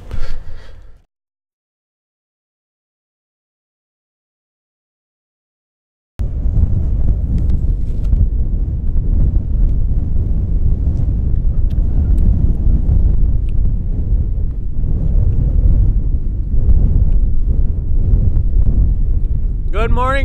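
Strong wind buffets a microphone outdoors in South Dakota, loud rumbling gusts after a brief silent gap, continuing steadily to the end.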